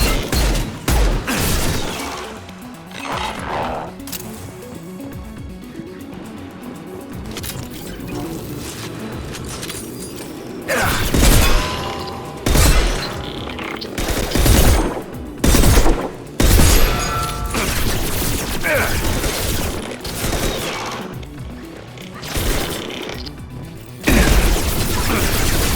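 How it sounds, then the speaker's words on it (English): Heavy gunfire from a Mass Effect 2 battle, with bursts of rapid shots and booming blasts in irregular clusters, loud and close, separated by quieter stretches of rumbling combat ambience. "Taking heavy fire!"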